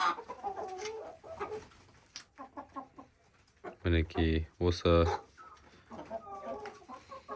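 Hens cluck inside a chicken coop with newly arrived birds, bursts of close, rhythmic clucking and squawks rising loudly in the middle, while a person speaks briefly over them.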